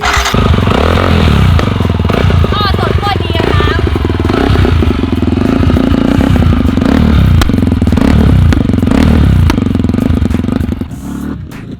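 A supermoto dirt bike rides hard through a curve, its motorcycle engine loud and close with rising and falling revs, clattering and scraping over rough ground, while a voice talks throughout.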